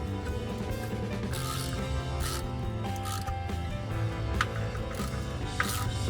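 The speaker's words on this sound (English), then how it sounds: "then just take the 10mm and just snug them up" A 10mm socket wrench snugs up bolts on a 1974 VW Super Beetle, giving rapid clicking ratchet and metallic working sounds over a constant humming background, with a couple of sharper clicks near the end.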